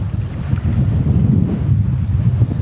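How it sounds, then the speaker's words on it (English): Strong, gusty wind buffets the microphone while big ocean waves churn at sea on a stormy, blustery day. A loud, continuous roar with surging low rumble goes on throughout, with no voices. "Is this a pretty stormy day? Yeah, it's blustery."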